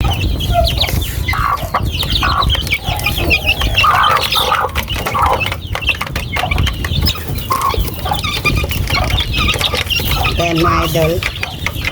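Chicks and hens cluck and peep at late-afternoon feeding time on a backyard farm, a busy layered chorus of chirps and clucks running throughout while someone talks over them.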